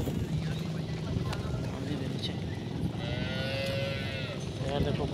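A water buffalo at a livestock market lets out loud, drawn-out lows against constant crowd and background noise, with people talking throughout.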